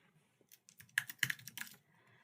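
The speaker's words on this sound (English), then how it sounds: "one of the few things I would still use a mouse and keyboard for is then going into this thumbnail and giving it a custom label" Keys clatter on a computer keyboard as a custom label is typed for a thumbnail: a short, quiet burst of a few quick keystrokes, close and isolated.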